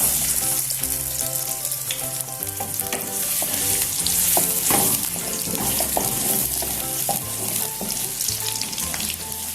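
Finely chopped onions hit hot oil with fried cumin, sizzling loudly and constantly while a spoon stirs and scrapes the pan, with background music playing throughout.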